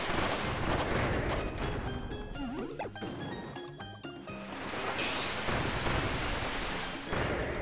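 Grenade blasts and impact bursts from Kirby's Return to Dream Land Deluxe, several sharp loud explosions in quick clusters, amid busy game effects, with a short chiming sweep near the middle.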